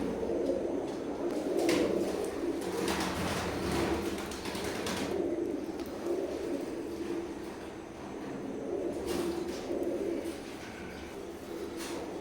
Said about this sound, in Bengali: ওমান ব্লাড লাইনের একজোড়া নিউ আইডল কবুতর